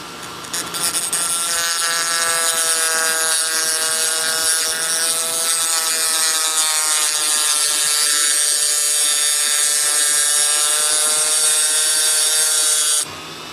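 Small drill with a 1/64 inch bit working on a model RC plane, a steady high-pitched whirring whine held continuously for over ten seconds at close range, then cutting off abruptly.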